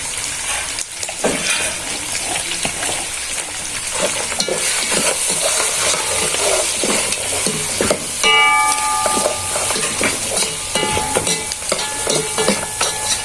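Mutton and pilau masala cooking together in a pot for biryani, a continuous close sizzle with stirring scrapes and clinks throughout, no talking.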